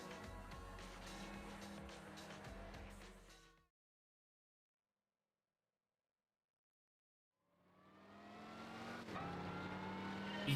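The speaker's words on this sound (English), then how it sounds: "You can finally hear the exhaust over the transmission." A Chevy race car with a racing exhaust of straight side pipes in Gran Turismo 6 revs loudly and roughly, cuts out to several seconds of silence, then swells back up into another strong, rising rev.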